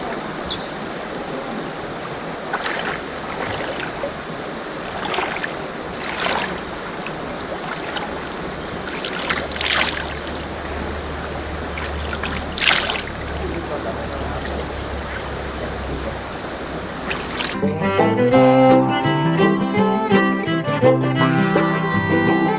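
A stream flows below a raised camping bed platform at a resort camp in Pipun, Nakhon Si Thammarat, giving a steady rushing hiss under a voice, with music coming in near the end.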